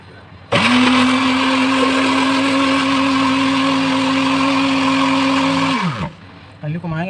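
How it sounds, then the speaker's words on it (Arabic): An electric mixer whisks oil-based chocolate gateau batter in a bowl, a loud steady motor whine running about five seconds before winding down and stopping. "انا دلوقتي بخفقه اهوت، وانتوا شايفين كده اهو"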